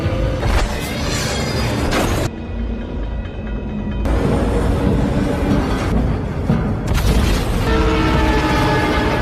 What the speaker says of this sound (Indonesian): Dom lengah dan akhirnya menabrak sebuah truk dan mobilnya terbalik